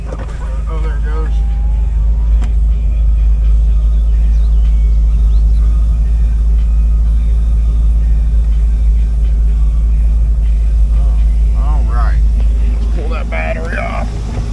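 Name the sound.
2004 Chevrolet Corvette Z06 5.7L LS6 engine running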